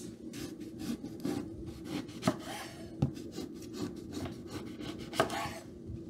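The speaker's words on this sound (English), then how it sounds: "And then I'm going to cut these eggplants in half." A knife slices through eggplants on a board, halving them for baba ganoush: soft scraping, rubbing strokes with a few sharper cuts and taps, close and fairly quiet, with no talking.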